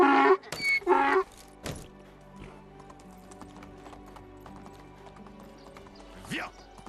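A donkey's hooves clip-clop in the medieval life-sim game Medieval Dynasty, a steady run of light taps after a brief burst of voice at the start, with soft ambient game sounds underneath.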